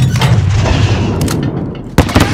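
A grenade blast in the Call of Duty Modern Warfare US Embassy siege, a loud booming burst of gunfire-like noise that rolls on, followed by sharper cracks and a second hit near the end.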